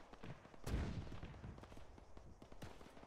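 A gun fires in the video game TSB during a last-stand fight: one sharp shot booms out, followed by fainter scattered gunshots at a distance. The sound stays quiet overall.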